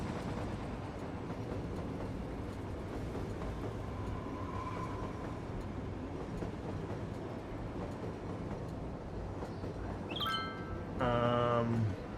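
A train in the city-building game Cities: Skylines, a steady low rolling rumble under a continuous background bed, with a brief tonal chime and a louder burst of harmonic tones near the end.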